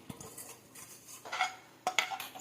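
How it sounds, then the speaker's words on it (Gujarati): A mixer bowl clinks and knocks as boiled spinach goes in while making palak paneer, a few sharp metallic clatters with quiet pauses between them. "હવે આપણે એક મિક્સર બાઉલ લઈશું, તેમાં બાફેલો પાલક છે તે નાખીશું"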